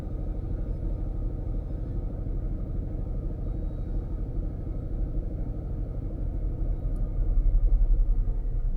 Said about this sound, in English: You can hear the humming sound in the background.